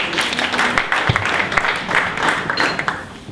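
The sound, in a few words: audience applause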